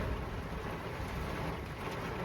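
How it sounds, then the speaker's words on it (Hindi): Heavy downpour of rain during a thunderstorm near Dehradun and Mussoorie, a dense steady roar of falling water filling the whole clip with no voices. "इतनी तेज बारिश।"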